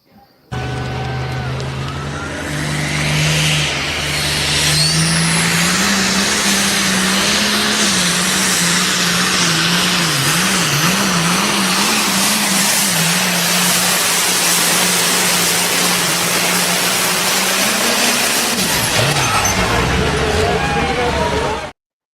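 A pulling tractor roars through a full tractor pull pass, its engine note rising and wavering as it revs hard, loud and continuous for about twenty seconds before cutting off abruptly near the end. Crowd or announcer noise sits faintly beneath.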